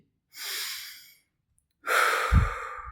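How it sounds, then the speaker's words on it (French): Two slow, deep breaths during a guided breathing exercise: a long, airy inhale followed by a pause, then a heavy exhale with a soft snort-like push, close and clear with no talking. "Tu fais vraiment des cycles de respiration profonds et longs."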